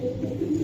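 Low, throaty cooing from giribaz pigeons in a seller's loft, a brief close burst over a steady background murmur.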